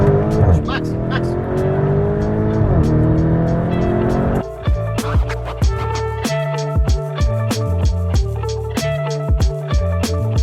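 A Lamborghini sports car in Dubai roars as it accelerates hard, its engine loud and close with rising revs and sharp gear changes, while people talk over it.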